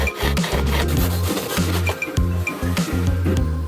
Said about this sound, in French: Pour découper cette pièce d'isolation, il a eu besoin d'utiliser son couteau spécialisé.